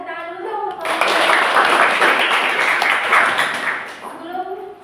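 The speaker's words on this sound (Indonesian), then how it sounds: "kita kasih tepuk tangan dulu dong" Students clap together in a classroom during a teaching session, a loud burst of mixed clapping lasting several seconds, with voices faintly before and after it.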